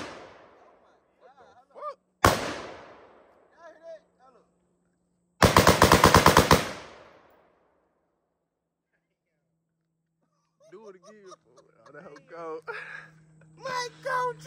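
Two loud bursts of rapid gunfire from a Draco pistol, one short and one longer sustained volley, with excited voices talking in between and afterward.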